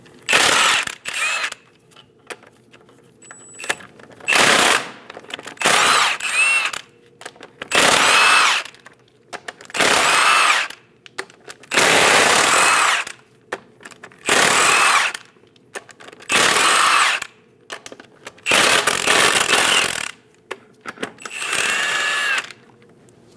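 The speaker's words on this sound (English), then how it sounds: "Using a 22mm socket, remove all 8 lug nuts." A power tool on a 22mm socket spins off the eight lug nuts from a 2001-2006 Chevrolet Silverado 2500 HD front wheel. It gives loud, close ratcheting bursts of one to two seconds each, about nine of them, separated by short quiet gaps.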